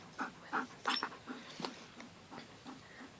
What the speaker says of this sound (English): he's whimpering, but it'll be alright.